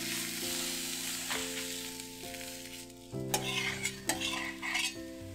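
Maharashtrian thalipeeth cooks in oil in a pan with a continuous frying sizzle, while a few sharper clinks and scrapes of a utensil against the pan come in the second half.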